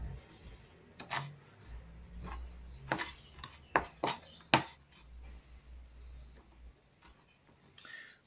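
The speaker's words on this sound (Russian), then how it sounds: "И соломочку поехали нарезать мелко. Такие мельчайшие кубики." A knife chops ingredients into very fine cubes on a board while making forshmak, an Odesa dish, giving about a dozen sharp, irregular strikes that are fairly faint and close.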